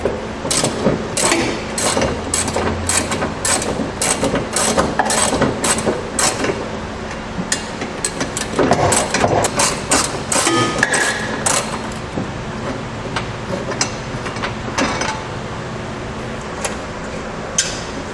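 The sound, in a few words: removing tow hook bracket bolts with 14mm socket ratchet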